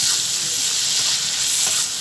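Onion browned golden and chopped tomato sizzle loudly in a pan while being stirred, a dense, continuous frying hiss with faint scraping close by, no voices.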